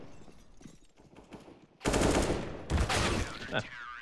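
Automatic gunfire in CS:GO on the Overpass map during a tense competitive round, with quieter distant shots first, then loud, dense bursts of rapid fire with a brief break before another burst.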